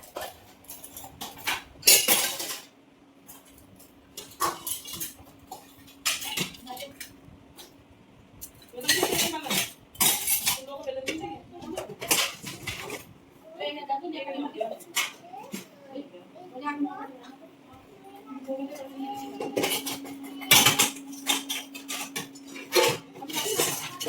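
Dishes, pots and utensils clink and clatter in scattered bursts while household belongings are packed for a move, with people, including a child, talking throughout.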